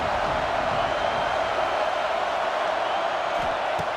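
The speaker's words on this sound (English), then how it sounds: "3rd down and the crowd really getting into it." A College Football 26 stadium crowd at an Oregon versus Penn State game, cheering on third down, a broad steady roar that holds for the whole stretch with no breaks.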